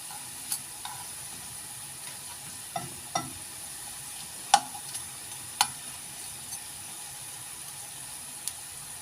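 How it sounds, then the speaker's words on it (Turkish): Manti, Turkish dumplings, fry in a pan with a soft steady sizzle, broken by several sharp clicks and taps of a utensil against the pan, with no talking. "mantılarımı da kızarttım. Çok da güzel kızardılar. Çıtır çıtır oldular."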